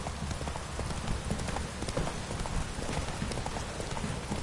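Roach the horse trots in The Witcher 3: Wild Hunt, producing a steady, rapid clip-clop of hooves over a constant ambient wash of game background noise.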